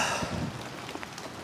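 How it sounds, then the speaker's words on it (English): Steady rain falls outdoors in a continuous close hiss with scattered drop patter, heard alone without any voices. "got this out of the rain"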